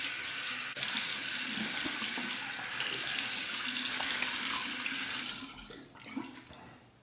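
A bathroom tap runs steadily into a sink for about five seconds before being shut off, leaving a few drips and small handling sounds at close range.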